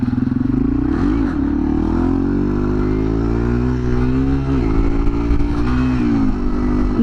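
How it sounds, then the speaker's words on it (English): A motorcycle ridden outdoors in very windy weather while doing wheelies, its engine revving up and dropping back repeatedly in loud, close surges with some mechanical clatter. "Just riding out here, doing some wheelies"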